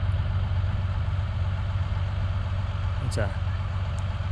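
A Dodge dually pickup fitted with dual tractor tires on the rear idles nearby with a steady low rumble, while someone briefly speaks over it.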